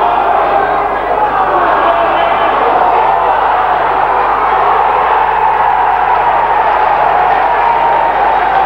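A rugby league crowd at Hilton Park in Leigh roars steadily for Leigh East against Bradford Northern, a dense, continuous cheer with a match commentator talking over it.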